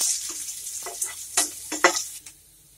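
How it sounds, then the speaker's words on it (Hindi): Onion, ginger and green chilli fry in a pan for a Punjabi kadhi pakoda, a soft sizzle broken by several sharp bursts of stirring and spatula scrapes, close up, before fading to quiet. "प्याज को पिंकिश होने तक फ्राई कर लें।"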